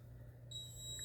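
A device beeping as it fails to start, a single steady high electronic tone switching on partway through and holding, faint over a low hum in a kitchen cabinet setting, with no talk.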